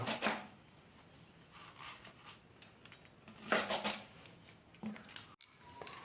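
Knife cutting pieces of banana stem for a thor recipe, a few scattered crisp chopping and tapping sounds against a board with quiet pauses between them.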